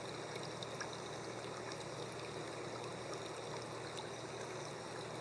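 Water flows in a steady, even rush, a continuous soft hiss and babble like a stream, faint and unbroken with no other sounds.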